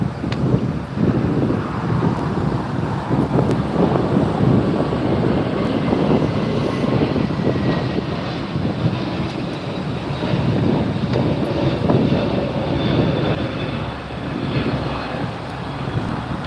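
A LATAM jet airliner at Los Angeles airport, a broad continuous roar heard alone at moderate distance with heavy wind noise buffeting the microphone.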